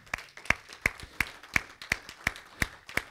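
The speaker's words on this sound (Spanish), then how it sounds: "Dele un fuerte aplauso al Señor" Steady, rhythmic clapping at a church service, about nine evenly spaced sharp claps in three seconds, fairly faint and with no talking over it.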